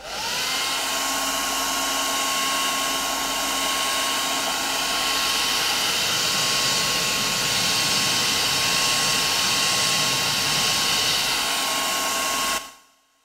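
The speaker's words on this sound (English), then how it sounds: "So I'm gonna hit this with a blow dryer" A blow dryer drying stencil basecoat whirs steadily and loudly for about twelve seconds with a constant high whine, then shuts off abruptly.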